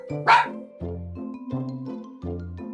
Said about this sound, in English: The dog goes.